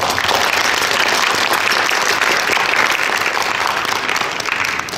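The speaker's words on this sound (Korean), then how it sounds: "큰 박수 부탁드립니다" Loud, dense applause from a large keynote audience fills the whole stretch, steady and sustained before tapering slightly at the end.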